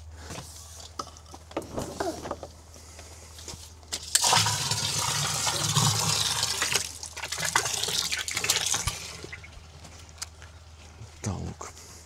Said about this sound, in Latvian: Dušiņa.